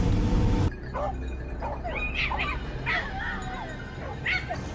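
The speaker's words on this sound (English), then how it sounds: "The dogs barked furiously from within the brush" Hunting dogs bark and yip in the brush on a mountainside where wild boars hide, several sharp barks and whimpers coming in quick bursts at moderate distance over a steady low rumble.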